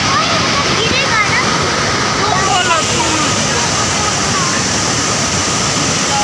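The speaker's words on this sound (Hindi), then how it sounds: "यहाँ का पानी का जो आवाज़ है वो बहुत ही ज़्यादा तेज़ है" Dassam Falls waterfall roars with loud, continuous broadband rushing water, steady and close throughout with no pauses.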